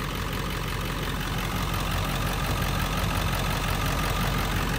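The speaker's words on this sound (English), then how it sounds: "So this engine, I'm not joking, it's idling better than ever before." A Ford 7.3 diesel truck engine with upgraded plenums and a tune idles smoothly in a steady, even drone, recorded close with no voices.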